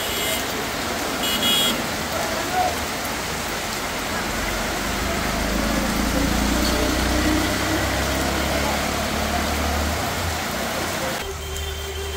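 Sudden rain falls at Malancha market at midday, a steady, dense hiss spread evenly across the whole stretch, with faint road traffic and a distant horn mixed in.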